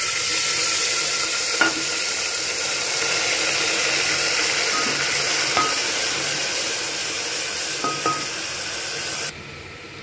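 Whole spices and a splash of water sizzling in a hot tadka pan for a home-style vegetable dish, a steady, close hiss with a few soft stirring clinks, cutting off abruptly near the end.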